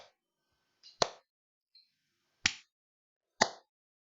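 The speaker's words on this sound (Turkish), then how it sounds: "mikrofonun dibinde alkışlamayı deneyeceğim" Hands clapping right up against a microphone: three sharp, loud, isolated claps spaced about a second and a half apart, each with a short tail, alongside a few fainter clicks in an otherwise quiet room.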